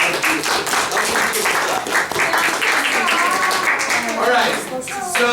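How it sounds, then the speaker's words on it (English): Classroom students applaud together in a dense, sustained burst of clapping lasting several seconds, with voices chattering and cheering mixed into the noise. "everyone round of applause"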